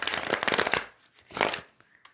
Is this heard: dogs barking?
no